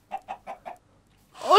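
Four short, evenly spaced clucks from a chicken in the video game Minecraft, followed after a brief pause by a loud, rising, unrelated sweep of sound.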